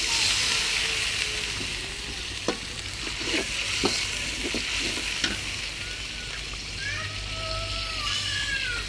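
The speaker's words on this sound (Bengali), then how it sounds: "এই যে এখন দিয়ে দেবে অল্প পরিমাণে একটু পানি।" Onion and garlic paste sizzles in a hot pan as a little water is added, a loud continuous hiss and crackle with stirring clicks and scrapes throughout.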